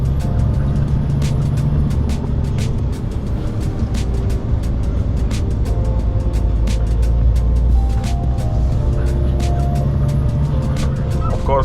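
A Scania truck's engine drones loudly and steadily through a downshift to 7th gear in manual mode on a road near Polloch, with constant cab noise, a rattling hum and a brief dip as the gear changes.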